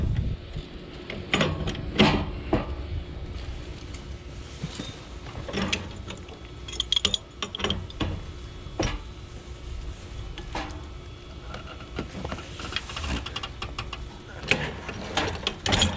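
Wrench ratcheting and metal fittings clicking while tightening the gas valve fitting on a pool heater, irregular clicks and scrapes close by over a steady background hum, no voices.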